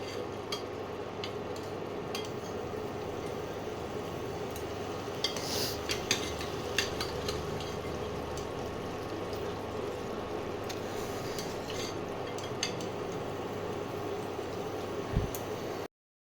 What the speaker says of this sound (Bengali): এবার আমি মাংসগুলো আস্তে আস্তে দিয়ে দেবো